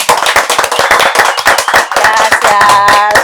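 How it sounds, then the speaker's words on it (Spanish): Enthusiastic applause from a small audience at a talk-show taping, with rapid, loud, close hand claps that keep going without a break, and faint voices underneath near the end. "Un fuerte aplauso."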